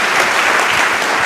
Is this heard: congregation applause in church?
yes